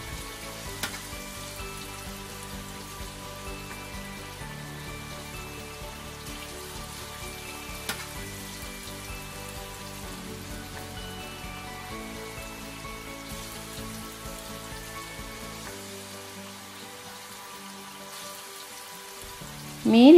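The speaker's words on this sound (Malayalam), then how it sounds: "എണ്ണ ചൂടായി കഴിയുമ്പോൾ നമുക്കിതിലേക്ക് മീൻ ഇട്ട് കൊടുക്കാം." Fish sizzling steadily in hot vegetable oil while being fried for fish pickle: a dense, continuous crackle that holds for about twenty seconds and swells into a louder burst at the very end.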